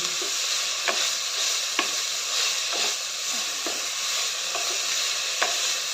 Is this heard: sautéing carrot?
yes